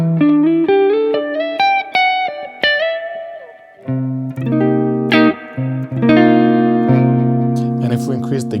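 Electric guitar played through a Mesa Boogie Mark series tube amplifier with its overdrive boost engaged, loud sustained notes and chords with harmonic-rich, slightly gritty tone and reverb tails, melodic phrases rising then settling into held chords, no talking.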